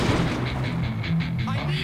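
Gunfire from Project Reality, the military shooter game, set in Fallujah, comes as a run of rapid, repeated booming shots at a roughly even pace, with some voice chatter underneath.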